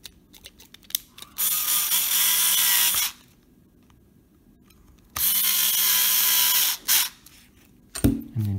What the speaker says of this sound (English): We continue with the power tools.